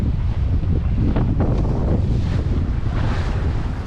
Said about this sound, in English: into the wind, about 15 knots on the nose, gusting a little bit more